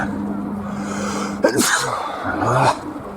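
A single person sneezes once, a sharp burst with a brief intake before it, heard outdoors over a steady low hum.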